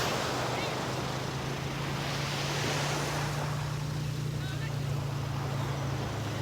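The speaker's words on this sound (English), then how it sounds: "we're nice and close to the water so you can hear the waves today" Ocean waves breaking at a Gulf of Mexico beach, a steady broadband surf wash that stays loud and constant throughout, with wind rumbling on the microphone and a low engine-like hum underneath.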